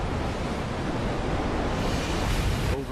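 Choppy sea under an overcast sky, steady broadband wave wash and surf rumble with some wind noise, loud and continuous.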